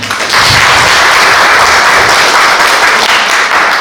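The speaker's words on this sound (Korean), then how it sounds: "박수로 환영하겠습니다" Audience at an academic lecture applauds to welcome a spiritual theology professor, a loud, dense, steady wash of clapping that fills the whole stretch without pause.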